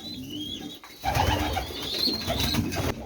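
Pigeons in a loft, with soft cooing and rustling close by, plus a brief stir of movement partway through; no talking.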